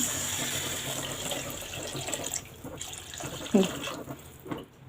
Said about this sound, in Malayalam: ഞാൻ ഇതിലേക്ക് വെള്ളം ഒഴിക്കുകയാണ്